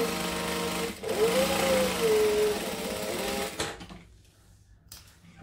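A sewing machine runs in a steady continuous whir while back stitching over a fabric tab on a glamour clutch, then stops abruptly, leaving quiet room sound.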